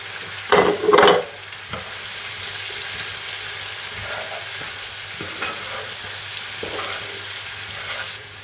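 Garlic frying in a pan for a red-wine braise of pork cheeks, a steady low sizzle with a couple of louder stirring bursts near the start and faint clinks afterward.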